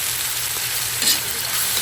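Chicken pieces fry in a pan with onion and ginger, giving off a steady, even sizzle with no voices.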